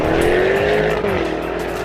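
A 2020 Jaguar F-Type V8 R roars loudly and close up through a gear change, its engine note rising and then dipping sharply at the shift before pulling on, with a deep rumbling exhaust.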